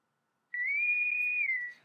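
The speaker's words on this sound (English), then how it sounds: "what this system will do is actually come back with a whistle" A Star Trek-style whistle alert from GiftxStream software: one clear, sustained electronic whistle tone lasting just over a second, heard alone after silence.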